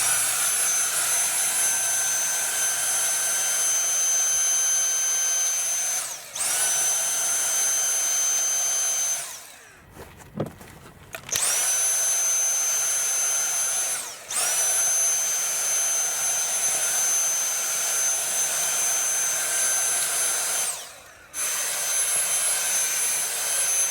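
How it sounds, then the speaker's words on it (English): A vacuum cleaner sucks dust from a Toyota RAV4 filter and its plastic cover, a loud steady whine running in long stretches broken by brief pauses and one longer gap, with no one talking. "we'll be using the vacuum cleaner to suck all the dust from both sides of the filter"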